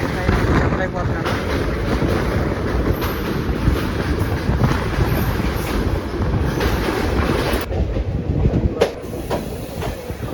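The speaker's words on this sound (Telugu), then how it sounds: "పెన్నా రివర్ మీద మన కృష్ణ ఎక్స్ప్రెస్ వెళ్తుందన్నమాట" The Krishna Express crosses the Penna river bridge near Nellore at night, a steady rumbling clatter of wheels and carriages with wind buffeting, heard close from aboard the moving train.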